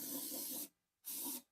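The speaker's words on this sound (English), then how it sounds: "give that a good spray." Two bursts of aerosol spray, likely penetrating oil, applied around spark plugs in the engine bay of a 2005 Chrysler 300 with 225k miles, each a loud hiss of about half a second with a brief silent gap between.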